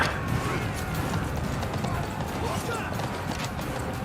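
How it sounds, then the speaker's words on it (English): Hooves of a running horse in the video game Blood of Steel pound in a steady, busy clatter, mixed with dense game noise and players talking throughout. "Back up, there's a horse behind you."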